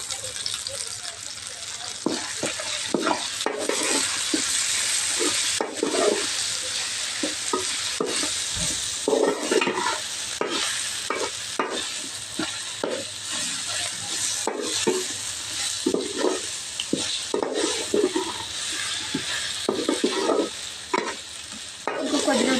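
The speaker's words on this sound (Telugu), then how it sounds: "కొద్దిగా అల్లం వెల్లుల్లి పేస్ట్ కూడా వేసుకుంటున్నాను అలాగే కొద్దిగా కొత్తిమీర కూడా వేసుకుంటున్నాను" Ginger garlic paste and coriander sizzle and fry in a pan while a spoon stirs them repeatedly, giving close scraping and crackling throughout, with a voice talking over the cooking at times.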